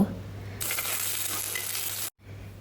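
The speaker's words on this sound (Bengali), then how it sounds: "আমি বরং সেই ফাঁকে মাছটা ভেজে নিই" Fish frying in a pan at home, a steady broadband sizzle that starts abruptly and holds close and fairly loud, cutting off briefly near the end before a low hum returns.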